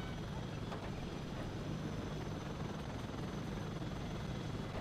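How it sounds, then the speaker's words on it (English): A helicopter in the strategy game Command & Conquer: Generals gives off a steady, quiet rotor roar and wash that continues evenly without letting up. "time for a helicopter evacuation here"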